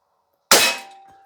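Single sharp report of a Beeman Black Panther dual-caliber break-barrel pellet rifle firing a Gamo pellet outdoors, a sudden crack after silence followed by a brief metallic ringing decay.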